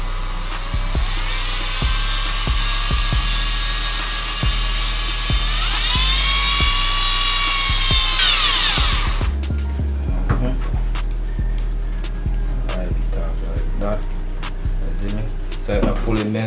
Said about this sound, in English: what we can do is put the drill in it here